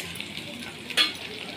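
Chopped onion dropped into hot oil in an iron pan over a lowered flame, after garlic has browned, gives a steady soft sizzle with a brief louder burst of crackling partway through.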